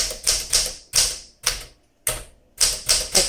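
A 1961 Smith Corona Sterling manual typewriter being typed on, with crisp, close mechanical key strikes in irregular bursts separated by short pauses, heard alone without speech.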